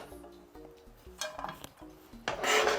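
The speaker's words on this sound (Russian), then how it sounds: "Теперь на холодную сковородку это высыпаю." Chopped pork belly tumbles into a cold metal frying pan with a rough rattling scrape, followed by a louder, brighter hiss as the pieces settle and shift.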